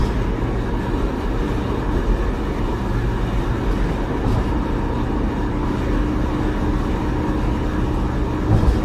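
A steady, loud rumble of a light rail train rolling past on rails, a continuous roar with no breaks, heard from close by on an overpass bridge at night.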